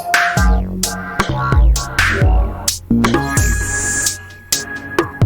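A sampler plugin plays MIDI notes that are randomly filtered, giving loud, clean synthetic tones with sharp attacks and decays and irregular gaps where notes are skipped, alone with no voices.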